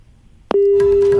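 A telephone busy tone after a dropped call: a click, then a loud steady electronic tone that holds without a break.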